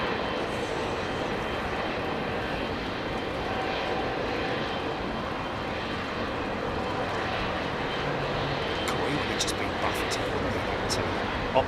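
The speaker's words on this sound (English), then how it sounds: "let's just let this 777 make its way up to the entry point. It's got no one in front of it, clear to take off whenever you like" Boeing 777 airliner at Heathrow rolling toward the runway entry point, a steady broad engine roar with a low rumble, fairly loud and continuous, with someone talking over it.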